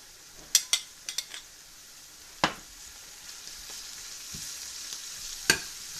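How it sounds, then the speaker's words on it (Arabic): Spices and minced garlic frying in a pan for a vegetable and meatball dish, a steady close sizzle broken by several sharp scrapes and clinks of a utensil stirring, spaced irregularly, with no talking. "نخلط العناصر مع بعضها."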